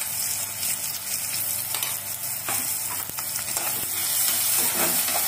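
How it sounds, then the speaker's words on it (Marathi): Green chillies frying in oil with ground masala, a steady bright sizzle with occasional stirring scrapes, close and continuous, no talking. "चांगला आपण भाजूया हिरवी मिरची, फ्राय करून घेऊ। चांगलं असं तेलात फ्राय करायचं।"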